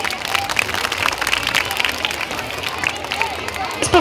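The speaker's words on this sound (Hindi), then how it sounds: "जोरदार तालियां हो जाए।" Audience at an Urdu primary school performance clapping loudly, a dense, sustained patter of many hands with crowd murmur beneath.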